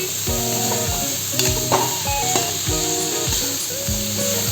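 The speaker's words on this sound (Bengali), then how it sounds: "ওইগুলোকে একসাথে সবগুলোকে খুব ভালো করে কষিয়ে নেব 10 থেকে 15" Pumpkin, potato and ridge gourd pieces sautéing together in a pan, a close sizzle broken by repeated scraping stirs in an uneven rhythm, with no talking.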